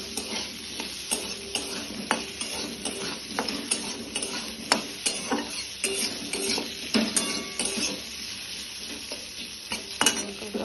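Spices with salt and turmeric fry in a pan, a steady sizzle broken by repeated scrapes and clinks of a utensil stirring against the metal, close and fairly loud.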